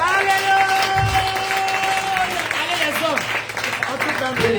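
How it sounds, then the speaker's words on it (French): A church congregation applauds and cheers at a Sunday service, a dense wash of clapping and voices with tonal sounds running through it, while a voice speaks over the crowd. "Acclamez encore le Seigneur."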